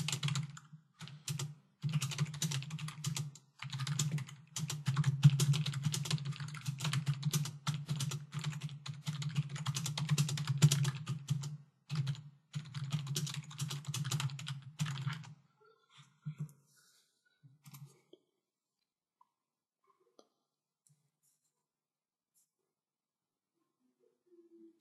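Text being typed on a computer keyboard, a close, rapid patter of key clicks in bursts with short pauses for about fifteen seconds, then a few stray taps before quiet.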